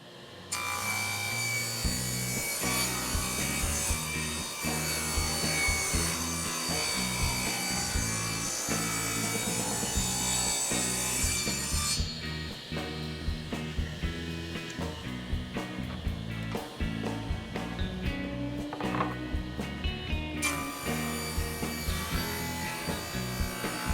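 A saw rips wood boards lengthwise into 3.5-inch side and end pieces with dust collection running, making a loud, continuous grinding whine that holds steady throughout with small shifts in pitch as the cut goes on and no speech.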